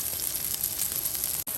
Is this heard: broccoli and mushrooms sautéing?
yes